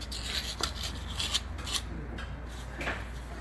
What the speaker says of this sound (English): now we're taking a razor and making sure all the metal is nice and flat